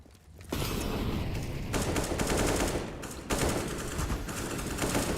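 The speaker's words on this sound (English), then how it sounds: "AK's popping away on the A ramp so far." AK rifle gunfire in a Counter-Strike pro match at IEM New York 2020, FURIA against Team Liquid, shots cracking out on the A ramp in dense, sustained bursts that barely let up, with one brief lull partway through.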